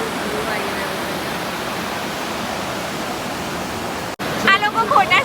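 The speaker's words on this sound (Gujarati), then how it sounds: "આ મસ્ત ઝરણું અહીંયા થઈ રહ્યું છે. અંબિકા નદી કહેવાય" The Ambika river's stream rushes loudly and continuously near Saputara, a dense broadband roar of flowing water, with people talking over it near the end.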